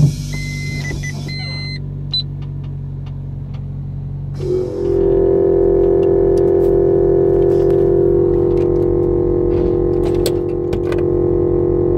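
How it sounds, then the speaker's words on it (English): An air suspension compressor bolted to a board in the trunk of a bagged Honda Civic drones loudly and steadily over a car idle, its pitch stepping up midway and then holding a constant whine, close with no voices. "Compressor is really loud. It's just mounted directly to a board in the trunk."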